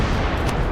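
A ship's cannon fires in the naval video game Corsairs, one loud booming blast that fills the short moment.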